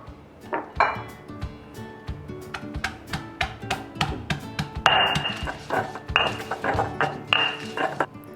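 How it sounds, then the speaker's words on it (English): Garlic smashed for a Hainanese chicken rice sambal, a rapid run of sharp pounding knocks with ringing clinks against a hard bowl, close and fairly loud, with no talking. "First, you want to smash the garlic"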